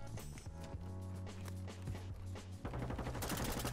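Gunfire rattles in a Call of Duty Warzone match, a dense run of faint, distant shots under steady game noise that grows busier and louder toward the end.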